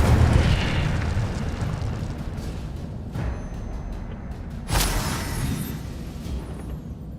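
Incendio fire spell cast in Hogwarts Legacy, a sudden fiery burst near the end over a steady, dense game ambience, with a smaller whoosh a little earlier.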